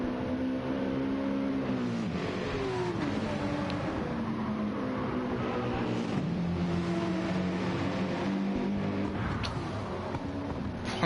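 Renault Gr.3 race car in a racing game, driving at Watkins Glen: a steady, loud engine drone that climbs and drops in pitch through the gears, with other cars' engines layered in continuously.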